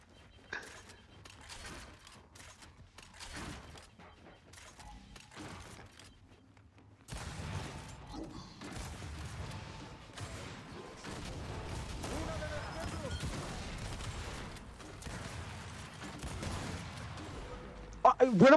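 Scattered gunshots and bursts pop in a competitive shooting video game match, some sharp and close, others muffled, with an excited player talking over much of the action.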